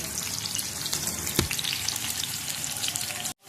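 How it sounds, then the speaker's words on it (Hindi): Tikka-style chicken pieces fry on a flat tawa over a low flame, giving a steady, close crackling sizzle with one brief clink partway through before the sound cuts off abruptly at the end. "ये हमारा चिकन जो है ये अच्छे तरीके से फ्राई हो रहा है"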